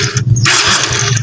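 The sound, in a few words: motorcycle engine being revved after top overhaul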